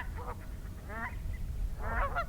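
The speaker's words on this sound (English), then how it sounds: "And snow geese. They don't often get this far west, but glad to see them too." Snow geese honk in three short bursts of nasal calls, moderately distant over a low, steady rumble of wind or background noise.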